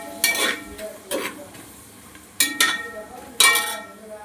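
Asafoetida stirred into hot oil in a pan for a drumstick and brinjal sambar, giving several close scraping stirs with sizzling bursts and light utensil clinks between them.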